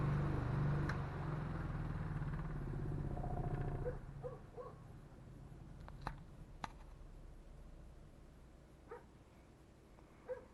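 A vintage 1940s or 1950s Emerson 12 inch table fan, model 77646-SU, spinning down: a low motor hum and whir that fades over a few seconds into a quiet rattle with faint occasional ticks.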